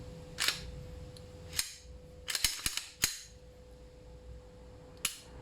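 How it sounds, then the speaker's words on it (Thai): A Glock 17 Gen 5 pistol is cleared with its slide action, giving a handful of sharp, close metallic clacks and clicks spaced irregularly over a quiet background. "เดี๋ยวขออนุญาตทำการเคลียร์ปืนก่อนนะครับผม"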